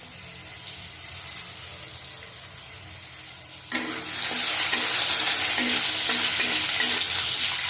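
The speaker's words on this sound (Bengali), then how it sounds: "কালো জিরা ফোড়ন দেবো দিয়ে আলুগুলো ভেজে নেবো" Potatoes drop into hot oil with nigella seed tempering, bursting into a loud, sustained sizzle after a quieter start, with a faint rhythmic crackle underneath.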